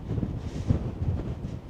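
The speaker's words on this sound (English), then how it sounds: "Super windy and super cold" Strong wind buffets the microphone on a cold, cloud-covered mountain above a Scottish valley in January, with a steady low rumble and gusting thumps, no voices.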